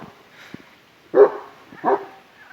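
Two short, loud Kangal shepherd dog barks ring out about a second apart on a farm, with quieter scuffling and faint noises in between.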